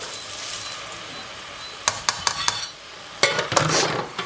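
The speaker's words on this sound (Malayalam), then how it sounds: "നമ്മൾ ഈ ചെമ്മീൻ വറുത്ത് കോരിയത് ഇതിനകത്തോട്ടിടുക" A spoon scrapes and clinks against a pan as fried dried prawns are stirred into a pickle mixture, with a soft sizzle underneath and a series of sharp, close knocks.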